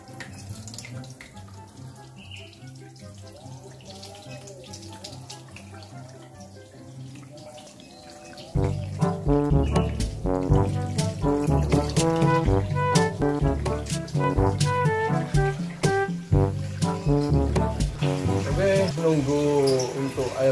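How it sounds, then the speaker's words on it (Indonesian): Water flowing and splashing through the filter of a custom bent 5mm acrylic aquarium, a soft trickle that turns into a louder, steady gushing partway through, with background music playing alongside. "Dan seperti ini untuk cara kerjanya filter. Jadi airnya bisa seperti mengalir seperti ini."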